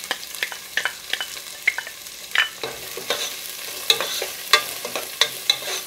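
Chopped large onion frying and being stirred in a pan of hot oil for a homemade crab gravy, with a steady close sizzle broken by repeated sharp scraping and clinking strokes of the spoon.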